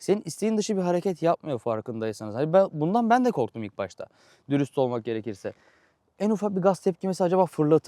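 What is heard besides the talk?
No everyday noises stand out.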